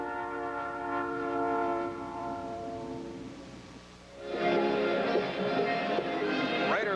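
A Southern Pacific train sounds a long, sustained horn that swells louder midway, with the low rumble of rail cars running beneath it.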